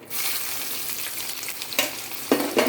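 Four or five garlic cloves and an onion fry in hot oil over dried red chilies and five-spice seeds. A loud, close sizzle flares up at once and keeps crackling, with brief bursts of stirring near the end.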